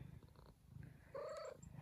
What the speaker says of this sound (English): Got some kitties asking for a little extra breakfast.